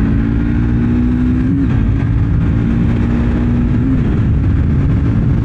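Triumph Speed 400 motorcycle engine pulling steadily under acceleration, a continuous loud low drone with a dip and rise in pitch around gear changes, close and unbroken with no talking.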